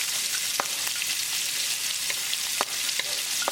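Ginger and garlic fry in hot oil with cumin seed for palak keema, giving a steady close sizzle broken by a few sharp pops and light stirring clicks, with no talking.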